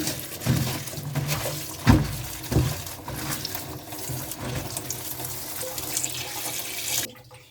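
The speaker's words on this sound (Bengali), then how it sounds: "এটি সবজিটা ধোয়া শেষ" Tap water runs and splashes over chopped data greens, chilies and onion as they are washed in a village kitchen, steady and close with a few louder sloshes, before stopping abruptly near the end.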